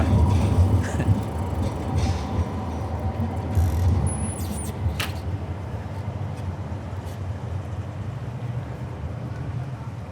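A local train rumbles steadily through a large Oslo subway station, a dense continuous roar with faint high squeals and clanks over it, close and loud the whole way.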